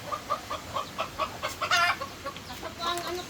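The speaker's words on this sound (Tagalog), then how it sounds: "Manok po." Chickens cluck in a steady series of short, soft calls, fairly close, with a louder squawking burst partway through and faint murmuring voices in the background.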